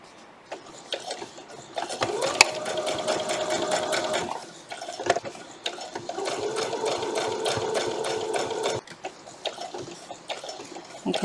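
Sewing machine stitching lace onto a vintage Sunbonnet Sue quilt block, running in two steady whirring bursts of rapid needle clatter close by, with brief pauses between.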